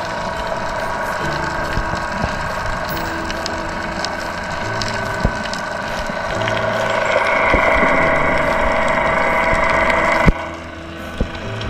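A boat engine droning loudly near a Palawan island during a spearfishing outing, a continuous mechanical hum with occasional knocks and a sharp clack near the end.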